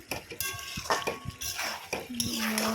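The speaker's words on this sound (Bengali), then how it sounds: "ভালো করে নাড়াচাড়া করে নিয়ে ভালোভাবে নাড়াচাড়া করে নিচ্ছি" A spoon clinks and scrapes against a pan as chicken curry with Kashmiri chili is stirred, with short metallic knocks up close and a faint voice in the background.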